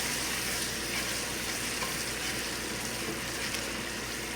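Steady, dense sizzling of ginger garlic paste frying in hot oil, continuous and close, with no talking.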